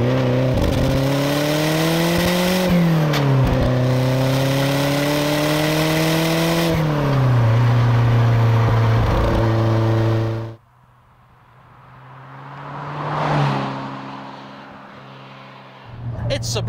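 The engine of a 1982 Lotus Turbo Esprit drones loudly from inside the car, rising through the gears with shift dips, then fades into road and wind rush before building again.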